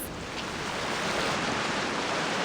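Small waterfall in the Genshin Impact video game, a steady broadband rush of falling water that holds constant and fairly loud, with no voices.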